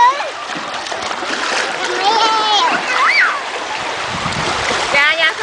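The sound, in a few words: child splashing sea water at the beach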